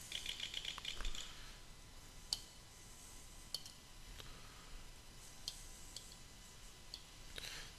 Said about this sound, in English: and I'm just typing gibberish